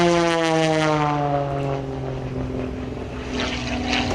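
A light aerobatic propeller plane performs at a beach balloon and sky festival airshow, its engine droning loud and steady with a rising and falling pitch as it climbs and dives, close by and alone without talk.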